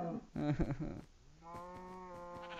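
Video game cows moo twice, the first call rough and low, the second a longer, drawn-out tonal moo, fairly close.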